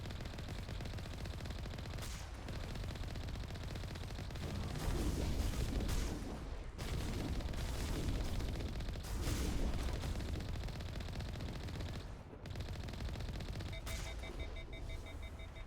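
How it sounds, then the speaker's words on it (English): Sustained, loud battle din of artillery fire and rapid gunshots in the video game Mass Effect, with booming blasts and volleys rolling on almost without pause. "There's the artillery, Shepard."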